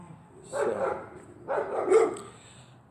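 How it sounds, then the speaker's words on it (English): Dogs bark outdoors in two loud bursts of several barks each, close by, with quiet gaps between and a faint start of another bark at the end. "I hope you could hear me over the dogs."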